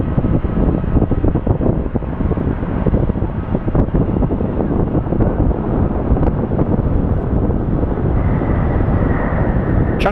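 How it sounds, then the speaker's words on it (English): A Boeing 777 arriving from London lands on a windy day at Phoenix Sky Harbor International Airport, its loud, continuous engine roar mixed with heavy wind buffeting the microphone, with a brief higher whine near the end. "we have our 777 coming in from London. Kind of a windy landing."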